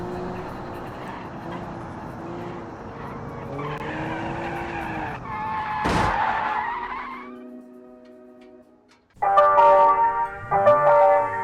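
A 1990s luxury car drives in daytime with its engine humming and a tire squeal building mid-way, then a short quiet gap before louder, tonal engine and driving noise returns.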